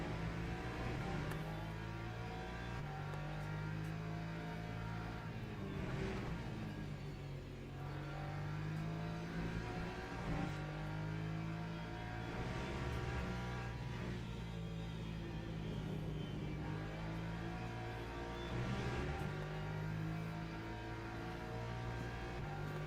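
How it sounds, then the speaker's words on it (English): Moxco race car engine in Le Mans Ultimate, a steady, droning note that rises and falls with repeated revving through gear changes, continuous and up close throughout. "Moxco car, I'd say, I like the sound of it as well, it's a great sounding car"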